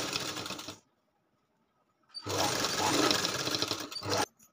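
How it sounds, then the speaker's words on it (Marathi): A sewing machine stitches a katori blouse in two close, loud bursts of rapid mechanical whirring, with a silent gap between them. "याच्यावर एक शिलाई मारून टाकायची"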